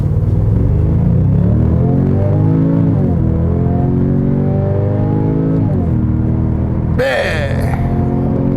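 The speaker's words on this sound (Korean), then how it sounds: "드라이브 모드를 스포츠 플러스 모드에 두고요, 급가속을 한번 해보도록 하겠습니다." A Genesis G70 2.0 Turbo AWD in Sport Plus mode accelerates hard, its engine note climbing steadily through rising harmonics with a gear change near three seconds and another near six, heard loud from inside the cabin.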